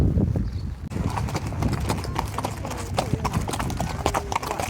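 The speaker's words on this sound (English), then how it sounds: "we headed to the hills for a horseback ride." Horse hooves clip-clop steadily on a horseback ride in the hills around Ensenada, a close, busy rhythm of hoof strikes over rustling movement that starts quieter and grows fuller after the first second.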